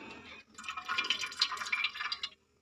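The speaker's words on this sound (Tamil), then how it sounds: "இப்போ நெய் கொஞ்சம் இதில் சேர்த்துடலாம்." Ghee is added to a pan of groundnut oil for a mushroom biryani, making a quiet, wet trickling and pouring sound that lasts about two seconds and then stops.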